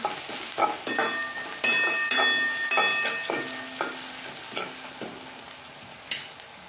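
Turmeric and spices sauté in a pan with a steady soft sizzle, punctuated by repeated scraping and clinking of a spoon stirring, close and without talk.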